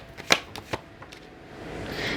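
Tarot cards are shuffled in a few quick riffling bursts close to the listener, followed by a quiet pause and soft rustling.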